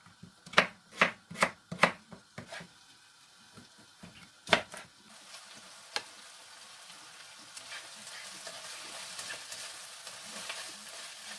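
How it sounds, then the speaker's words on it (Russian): A knife chops carrots into strips quickly on a board in a rapid run of crisp cuts, then a few more strokes, while a frying hiss builds underneath. "И морковку порежу соломкой, и свеколочку."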